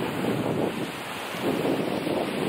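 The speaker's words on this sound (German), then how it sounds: "Die Brandung ist ein bisschen stark." Strong ocean surf rolls onto a beach in two broad swells of crashing wash, heard close and loud under heavy wind buffeting on the microphone.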